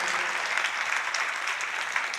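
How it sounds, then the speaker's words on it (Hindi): An audience at a Jain religious ceremony in Guna claps loudly and continuously, a dense, even wash of applause with no pauses. "उसके सम्मान में जोरदार ताली बजाइएगा"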